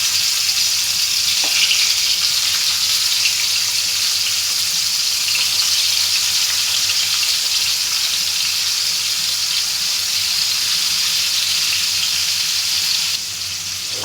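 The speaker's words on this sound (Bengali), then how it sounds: "আজ আমি ঢেলা মাছ ফ্রাই করব।" Dhela fish fries in oil with a steady, loud broadband sizzle that holds for the whole stretch, briefly softening near the end, with no talking.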